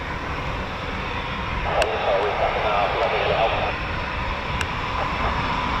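A Eurofighter Typhoon FGR4 jet roars overhead near an RAF station, a steady loud rumble that swells slightly midway, heard from a distance.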